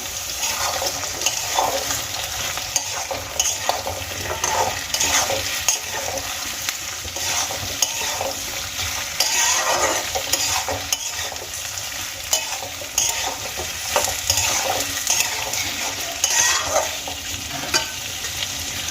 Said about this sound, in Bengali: আমি ডাইরেক্ট আলুগুলো পেঁয়াজ আর আদার মধ্যে দিয়ে দিলাম